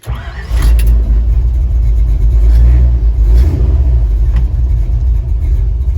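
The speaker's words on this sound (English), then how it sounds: "I'll go ahead and fire it up because it gets a lot of attention because of the cam in it" A cammed engine in a 1966 Chevy short bed truck cranks and fires up, then settles into a loud, lumpy, loping idle close by; the engine is still slightly cold, so the idle runs low.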